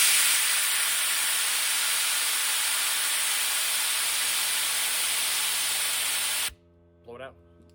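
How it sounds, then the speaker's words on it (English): An air compressor nozzle blasts air through maple sap tubing in a loud, steady hiss lasting over six seconds, then cuts off, leaving a quiet room with a brief faint sound afterward. "So I've got my air compressor hidden in my man cave because it's gonna get super noisy and loud."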